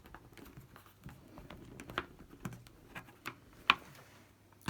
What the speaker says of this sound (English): we get the blade side and we'll cut the plasticine like that